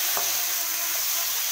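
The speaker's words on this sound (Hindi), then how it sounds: "मैं इसमें जो केले को काटे हैं उसको हम डालेंगे, और इसको भी हम उलटकर अच्छे से भून लेंगे" Sliced banana fries with onions in a pan, a steady close sizzle with one brief knock of a spoon as it is stirred.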